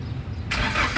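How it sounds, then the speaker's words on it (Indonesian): A 2015 Daihatsu Gran Max 1.5 D manual fires up: a short quiet stretch, then the engine catches abruptly into a loud, rough, broadband roar that settles into running, close by with no talk. "barulah kita coba nyalakan mobil"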